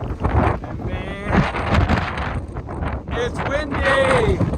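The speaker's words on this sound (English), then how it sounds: "it's windy! Oh, it's gonna blow me over." Strong wind on a mountain near Saddleback on the Appalachian Trail buffets the microphone in loud, continuous gusts while people talk over the roar.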